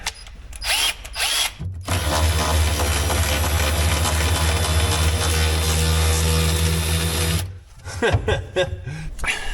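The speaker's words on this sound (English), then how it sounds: "little battery powered ratchets that would work" A battery-powered ratchet drives bolts on a small offroad wrecker, whirring loudly and steadily for several seconds, with brief clicks and handling noise before and after.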